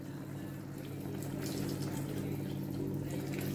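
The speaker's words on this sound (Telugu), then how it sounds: "తగినంత చింతపండు పులుసు పోసాను" Tamarind juice poured into a pot of drumstick sambar, a continuous close liquid stream with a steady hissing, gurgling texture and no talking.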